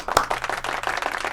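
A short burst of clapping from a small group follows a sports commentator's call for applause, with one sharp clap near the start and then a steady patter.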